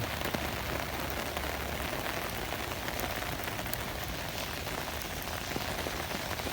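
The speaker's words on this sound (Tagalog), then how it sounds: "grabe ang ulan" Heavy rain pours steadily at a bus stop, a dense continuous hiss of drops striking surfaces nearby, with no voices.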